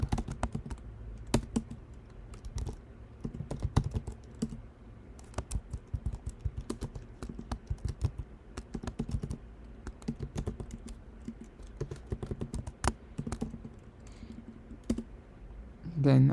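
Typing on a computer keyboard, with rapid irregular bursts of close, crisp key clicks and brief pauses, continuing steadily for most of the stretch and ending in a louder thump.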